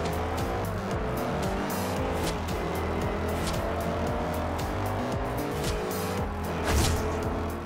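Mercedes SLK55 AMG with a V8 racing in the video game Forza Horizon 2, engine droning steadily at moderate level with shifting pitch, tire squeal and faint passing sounds layered over it.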